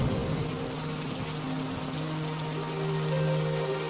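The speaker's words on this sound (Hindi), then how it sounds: "अचानक फिर से भयंकर बारिश शुरू हो जाती है" Heavy rain falls in a steady, dense hiss across four seconds, with faint low tonal hum beneath it and no voices.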